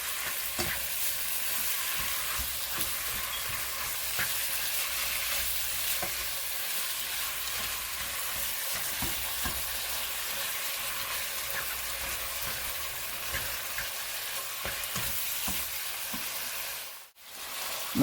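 Chicken pieces and shrimp frying in a pan for curry pasta, a loud continuous sizzle with soft scraping as the pieces are stirred around, steady throughout before a brief dip near the end.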